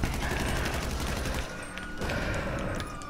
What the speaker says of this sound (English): Oh no, they're shooting me.